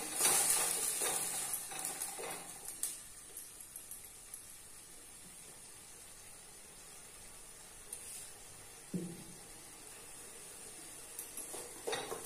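Masala frying in oil for Malvani chicken rassa gives a soft, low sizzle with occasional spoon scrapes and stirring clicks, louder at first and then settling into a quieter hiss.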